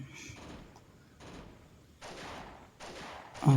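Gunfire in the Mini Militia video game: bursts of rapid shots in several separate volleys, fairly quiet and evenly spaced, with a louder thump at the end.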